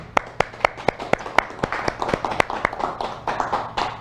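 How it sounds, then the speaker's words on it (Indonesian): An audience applauds after a company's public expose presentation. The claps are sharp and distinct, coming several per second, and a small crowd keeps them going at a steady, moderately close level. "mari kita berikan aplaus yang meriah"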